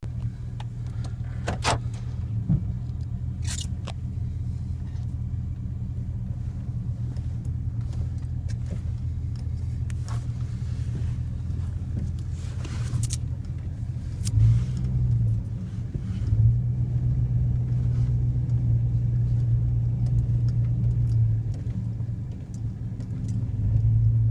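Chevy or GMC car on a short test drive after a fuel injector change: steady low engine and road rumble from inside the cabin, rising slightly midway, with occasional clicks and rattles and no talking.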